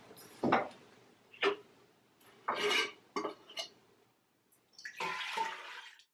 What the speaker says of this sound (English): first let's pour the dye stock that I've made into the bigger one